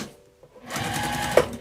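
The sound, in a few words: sewing machine top stitching onto vinyl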